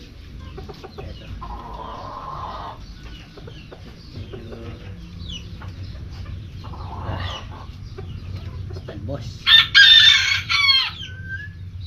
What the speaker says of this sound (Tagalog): Ito na yung mga manok.